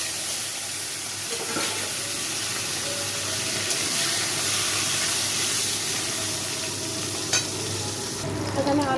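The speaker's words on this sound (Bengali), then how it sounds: "এখানে আলুটা একটু ভাজা হয়ে গেছে" Potatoes frying in oil with whole garam masala and bay leaf for a chitol fish kalia, a constant close sizzle broken by spatula stirs and scrapes.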